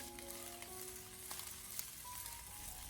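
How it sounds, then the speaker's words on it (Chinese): Duck wings stir-fried in a wok with soy sauce, a steady close sizzle and crackle of frying running throughout with light scraping from stirring, no voices. "我们将鸭翅膀翻炒至上色，炒出香味以后"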